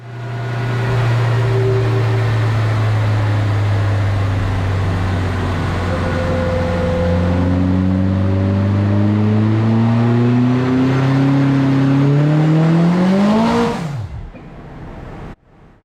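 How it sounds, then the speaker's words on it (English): A misfiring car engine drones loudly at a steady pitch, then climbs gradually in a long, labored rev before cutting off abruptly near the end. "It was misfiring and not really revving out very freely to start off with."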